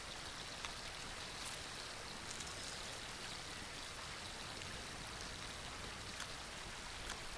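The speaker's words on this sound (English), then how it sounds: "I'll work on filling up this water skin as well." A steady, faint stream of running water in a survival video game as a water skin is filled, a soft trickling wash that stays even throughout with no voices.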